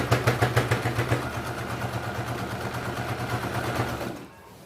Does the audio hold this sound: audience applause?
no